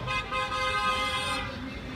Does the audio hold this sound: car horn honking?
yes